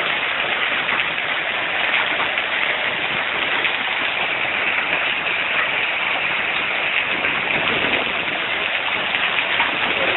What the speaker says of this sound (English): there's a little bit more rain coming down now, but it's still mostly hail